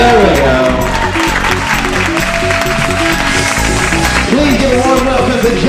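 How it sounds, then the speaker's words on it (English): Wedding guests clap and cheer at a reception in California, a steady wash of applause with whoops over music and talk, loud and close throughout. "If I could get you clapping and cheering just a little bit"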